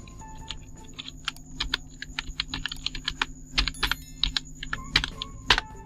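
Fingers tap out a short burst on a computer keyboard, quick uneven clicks close to the microphone in a quiet room, with a louder key strike near the end.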